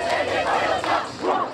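A high school game crowd yelling and cheering, a dense roar of many voices rising and falling in waves, loud and close.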